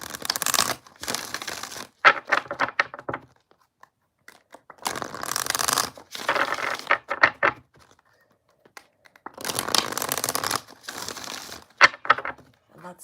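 Tarot cards being shuffled three times in separate crisp, riffling bursts with quiet gaps between them, close and clear, no talking.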